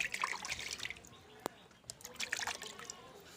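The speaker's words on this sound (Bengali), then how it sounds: "আমি হাতটা ধুয়ে নেবো কলতলায় যে" Hands are washed with stored water at an outdoor tap area, soft splashing and trickling close by, with one sharp knock in the middle and quieter pouring toward the end.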